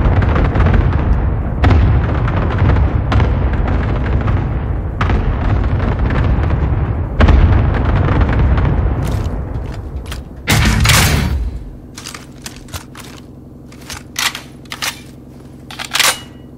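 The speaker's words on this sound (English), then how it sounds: "Cluster strike away." Cluster strike explosions in Call of Duty: Modern Warfare, a long roaring barrage of heavy booms and rumbling blasts, loud and dense, then cut to sparse sharp cracks and pops over a low hum.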